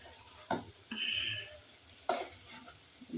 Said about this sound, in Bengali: কই মাছগুলো একটু ভালো করে ভেজে নিলাম